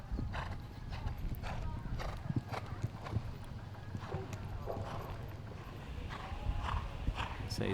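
Horse hooves clip-clop steadily on a showjumping course at a CSI 2* Grand Prix, with a brief whinny, under constant commentary-style talk and arena background noise.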